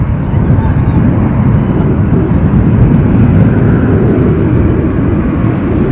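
A Loganair airliner at Edinburgh airport gives a loud, steady broadband jet roar that holds unbroken throughout, with wind buffeting the microphone.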